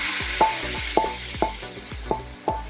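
Ground beef sizzles loudly in a hot saucepan with no oil, a steady hiss broken by rhythmic scraping and stirring strokes about every half second, close and alone.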